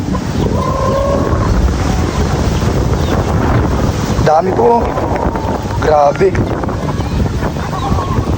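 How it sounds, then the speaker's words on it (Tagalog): Strong wind roars into the microphone outdoors with a steady loud rumbling buffet, while a person speaks briefly over it. "Lakas ng hangin ngayon. Sobrang lakas ng hangin."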